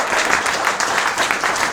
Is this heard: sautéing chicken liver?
no